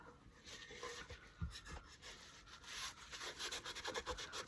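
Paper towel being rubbed with Mod Podge over a wooden paper towel holder made from scrap wood, a soft continuous scuffing and rubbing close up, with brief louder strokes, alone without talk.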